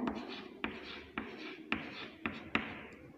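Chalk or marker strokes writing numbers on a board, a series of about six sharp taps and short scratchy strokes at irregular intervals, faint and close, with no talking.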